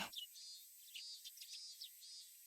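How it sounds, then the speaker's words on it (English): Cicadas crying in the Higurashi video game, a thin, high, shrill chirring that runs continuously with small pulsing swells, alone against silence. "The cries of the cicadas surrounded around me"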